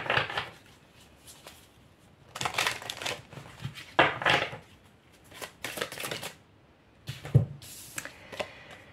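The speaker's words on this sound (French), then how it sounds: "je pense que je vais vous tirer juste une dernière carte" Tarot cards are shuffled and drawn by hand in close bursts of riffling and flicking, separated by quiet pauses, with no speech.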